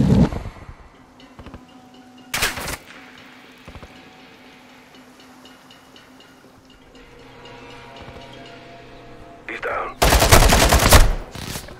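Gunfire in the Call of Duty Modern Warfare 2 campaign, bursts fired to shoot down a target: two sharp loud shots early, then a longer heavy burst near the end over a quiet background hum.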